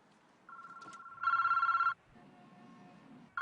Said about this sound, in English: The phone is ringing now, Sykes.